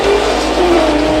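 A street car engine revs hard at a drag race, a short, loud, dense roar with a rough edge, heard close and without speech.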